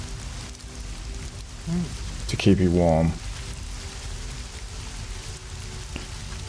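Steady rain falling on a cold night, a soft continuous hiss running throughout with a voice speaking briefly over it partway through.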